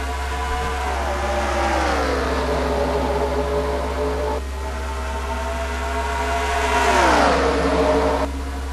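Race cars in a NASCAR video game pulling away on a green-flag restart at Homestead-Miami, engines revving up in rising sweeps with a second surge near the end, loud and close with no talk.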